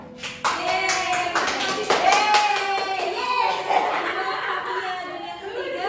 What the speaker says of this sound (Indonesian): dan yang ketiga mau kita beri tepuk tangan